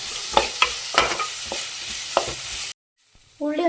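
Onions sautéing with salted cooked tapioca, stirred in a pan: a steady loud sizzle with several scraping stirs, then a brief cut to quiet and a short tonal clatter at the end.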